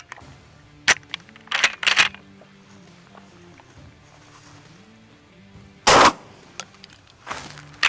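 A shotgun fires Sterling tactical slugs outdoors, a few sharp, loud blasts spaced seconds apart over a quiet background, with small metallic handling clicks between them.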